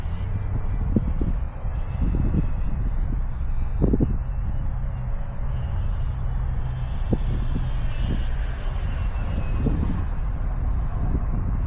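An electric RC plane, an E-Flite Extra 330 1.3 m aerobatic model, drones continuously overhead, a steady motor whine with shifting pitch as it manoeuvres, alongside faint outdoor noise and occasional thumps.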